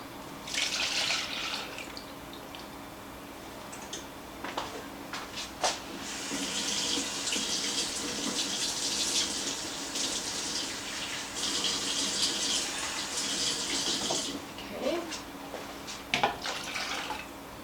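Water pours steadily from a tap into a container with soy sauce while making a fried rice sauce, a continuous rushing splash with a few drips and clinks, close and fairly loud, no talking.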